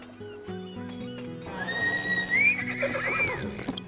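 A horse neighs and whinnies in the fantasy video game Might & Magic X: Legacy, with clip-clop hooves and steady background music, loud and close.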